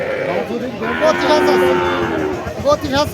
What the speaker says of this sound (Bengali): দেশি জাতের বকনা বাছুর দেখতে পাচ্ছেন